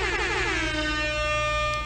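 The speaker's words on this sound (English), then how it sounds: "Air horn question mark?" An air horn from the video game Heaven Will Be Mine blares in a loud, sustained, brassy tone with a pitch that bends downward briefly at the start, then holds steady for nearly two seconds with no talk.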